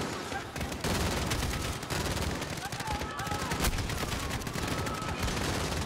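Call of Duty: Modern Warfare gunfire rattles in rapid automatic bursts with sharp individual cracks, loud and sustained, under faint talk.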